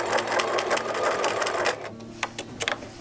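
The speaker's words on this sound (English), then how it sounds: "We're going to begin sewing on the dotted line and go all the way around." A sewing machine stitches along the dotted line of a June Tailor Caitlyn quilted tote panel, running in a steady close whir that pauses briefly near the end, then resumes in short bursts.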